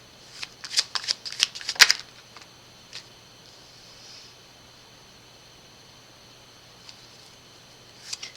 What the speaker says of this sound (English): If you don't enjoy the shuffling,